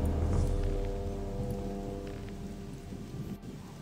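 Rain and rolling thunder in the video game Gothic II, a steady hiss of rainfall over a deep low rumble that slowly fades, with one sharp crackle near the end.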